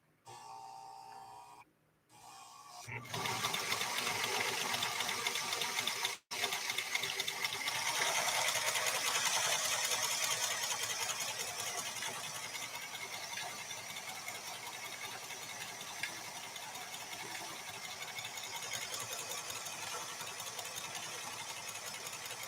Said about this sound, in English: I'm going to sew right off the material.